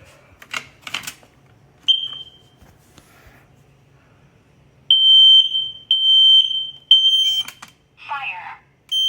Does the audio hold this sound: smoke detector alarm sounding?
yes